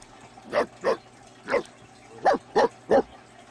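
A pet dog in The Sims 4 life-simulation game gives six short woofs in two uneven clusters, moderately close and clear over a faint steady background hum, with no talking.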